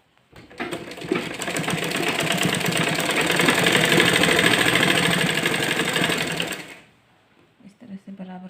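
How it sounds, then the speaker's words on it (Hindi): A sewing machine runs a steady, continuous stitch along the fitting line of a designer kurti for about six seconds, then stops, leaving faint handling noises. "जो हमने फिटिंग का निशान लगाया है उसी पे हम फिटिंग की सिलाई चला देंगे"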